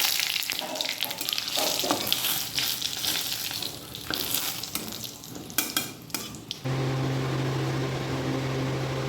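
Whole dry red chillies and bay leaves crackling and sizzling in hot oil, loud and close with sharp pops, then settling into a steadier hiss with a low hum underneath; no talk.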